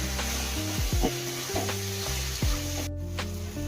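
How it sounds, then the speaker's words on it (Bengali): Kabuli chana browning in mutton fat in a pan gives a steady, close sizzle that runs the whole time beneath a melodic music track. "এবারে এটা ভালো করে কষিয়ে নিচ্ছি।"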